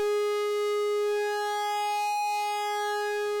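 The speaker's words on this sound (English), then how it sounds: "This is a Moog emulation from Arturia or Arturia, however you say it." Steady, buzzy sustained tone from an Arturia Moog emulation synth with tremolo and a fade-in, rich in harmonics and harsh in character, holding one pitch throughout with no voices.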